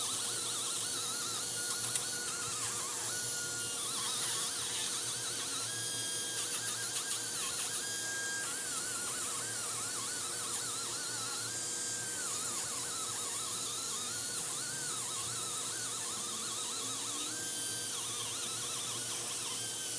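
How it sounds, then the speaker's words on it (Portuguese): A rotary sponge on a high-pitched dental handpiece polishes the edge of an orthodontic aligner, a continuous whine that wavers in pitch as pressure changes, steady and close throughout. "Já tá dando o polimento aqui nessa borda da placa para que ela não fique aguda"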